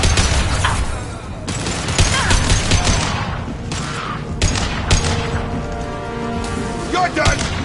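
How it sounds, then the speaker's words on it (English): Rapid bursts of gunfire in Mass Effect 2 as Blue Suns mercenaries and Vorcha shoot through the streets of Omega, loud and sustained with booming hits, overlapping in-game voices. "Blue Suns and Vorcha shooting anything that moves."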